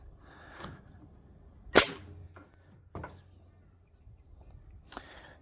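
A Ryobi Airwave framing nailer fires nails in a few separate sharp cracks, one notably loud and close among quieter shots, spaced a second or so apart with faint background noise between.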